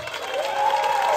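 Audience applause and crowd noise at a lively comedy stage show, a steady dense wash of clapping and murmur sustained at an even level throughout.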